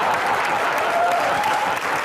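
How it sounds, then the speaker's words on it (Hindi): Studio audience applause on a Hindi television comedy talk show, a steady dense wash of clapping hands that holds at an even level for about two seconds with no talk over it. "तुम भाई ताली बजाती रहती हो बीच में बैठ के"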